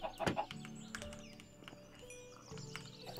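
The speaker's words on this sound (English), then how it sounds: "Another chicken." Minecraft chicken clucking in a survival farm pen, short clucks mixed with other animal and game sounds, including hoof-like clops, at moderate level with no talk.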